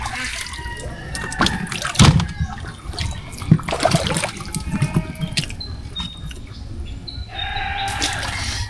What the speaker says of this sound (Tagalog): Alon pa eh. Alon pa.